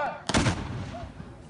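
A big cannon fired at a nightly sunset ceremony booms once, a single loud blast followed by a short fading rumble, with faint voices around it.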